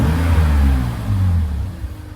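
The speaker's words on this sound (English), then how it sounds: "Let's just stab the throttle again with this MacGyver contraption here" A BMW E46 330ci engine revs hard as the throttle is stabbed, a loud close rising roar with harmonic drone that holds briefly then falls back toward idle.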